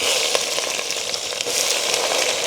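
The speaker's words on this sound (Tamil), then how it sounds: "இப்போ வந்து எண்ணெய் விட்டுட்டேன் எண்ணெய் கொதிச்சிட்டுது காலிக்கிறதுக்காக கடுகு பெருஞ்சீரகம்" Mustard seeds, fennel and shallots fry in hot oil, giving a steady close sizzle with small crackles and pops throughout, no voices.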